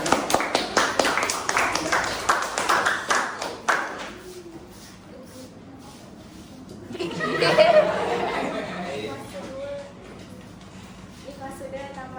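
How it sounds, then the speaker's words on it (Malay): Classroom applause from students in a maths lesson, a burst of clapping filling the first few seconds before giving way to chatter and a rising murmur of voices and laughter. "Berikan tepukan."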